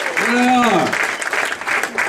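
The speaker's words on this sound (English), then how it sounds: "How about a round of applause for all the comics who came out today in the big show?" A comedy festival audience applauding the comics in a brief burst of clapping and cheering, with a loud voice over it at the start.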